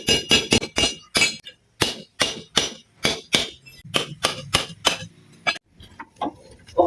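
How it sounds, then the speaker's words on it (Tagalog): Sharp, ringing hammer strikes on a metal part of a Suzuki two-stroke engine, about twenty blows in quick uneven bursts, close and loud with short pauses between groups. "Pupupukin natin to ng martilyo."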